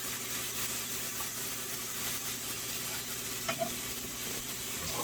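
Burger patties cook in a pan without oil over slightly above medium heat, giving a steady, even sizzle that stays constant and fairly quiet, with a faint clink partway through.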